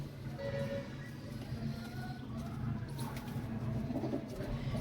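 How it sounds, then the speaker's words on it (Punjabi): Pigeons cooing nearby in a poultry shed with straw nesting spots, low repeated coos over a steady background hum and no speech. "ਦੇਖੋ ਬਾਈ ਆਪਣੇ ਕਬੂਤਰ"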